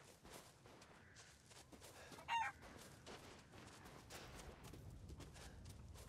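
A chicken in Resident Evil Village VR gives a few quiet clucks and one brief sharper squawk midway, faint against a soft ambient background with light footstep-like shuffles.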